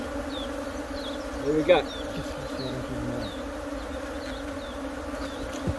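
Honeybees hum in a steady drone at an opened hive during a canola split, with a voice speaking briefly over the buzz.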